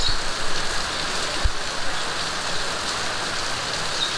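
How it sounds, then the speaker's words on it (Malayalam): Heavy rain pours down steadily, a dense, constant hiss of drops beating on surfaces close by, with no voices over it. "ഭയങ്കര മഴ, ഇവിടെ ഇരിക്കാൻ പറ്റുന്നില്ല, അമ്മാതിരി മഴയാണ് ഇപ്പം നടന്നുകൊണ്ടിരിക്കുന്നത്"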